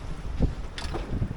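Wind rushes steadily across a sailboat at sea on the open ocean, a broad, constant airy roar over a low rumble, with no voices.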